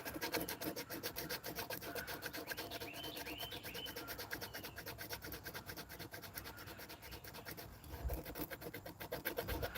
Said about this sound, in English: sitting here hand sanding this because I want to protect the finish on the bolsters and the rest of the blade